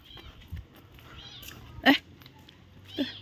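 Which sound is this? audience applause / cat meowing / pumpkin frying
cat meowing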